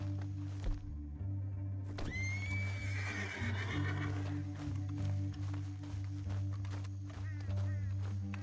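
A horse lets out a loud, drawn-out whinny, with heavy hoof thuds and stamping around it over a constant low hum.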